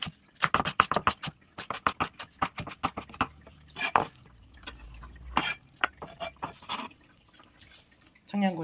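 Green onion being chopped small with a knife on a board, a quick run of sharp rhythmic taps in bursts, close and crisp, with a voice speaking between the chopping runs.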